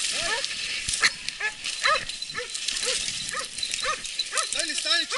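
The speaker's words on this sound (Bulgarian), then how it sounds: "Чакай се надърват кучета." Several dogs bark repeatedly in overlapping bursts, loud and close, with snarling between barks and voices talking underneath.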